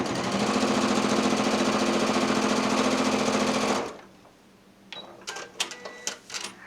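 A Janome 6700P sewing machine stitches free motion quilting at high speed, a steady loud rapid hum for nearly four seconds, then stops, followed by quiet clicks and small handling sounds.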